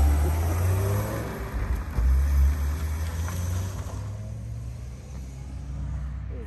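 A car driving around nearby, with a steady low rumble that swells and fades, close and fairly loud, with no talk over it.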